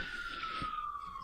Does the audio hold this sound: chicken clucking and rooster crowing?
no